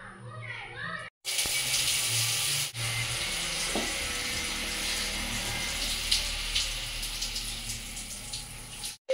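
Water runs steadily while hair is rinsed during a bath, a broad continuous splashing rush after a short opening with a brief voice, pausing once near the start and then flowing on with small splashes.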